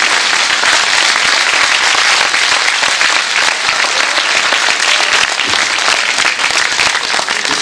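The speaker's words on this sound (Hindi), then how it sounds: "पूरा सदन आगे से लेकर पीछे तक दोनों हाथ ऊपर उठा करके भाई देवेंद्र के लिए आशीर्वाद की तालियां दें" A packed hall at a Kavi Sammelan poetry gathering breaks into loud, sustained applause for the poet Devendra, many hands clapping densely and evenly for several seconds with no voices over it.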